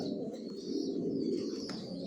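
Johnson-line racer pigeon chicks coo steadily in a loft, a soft continuous low burbling with faint chirps above, close and unbroken.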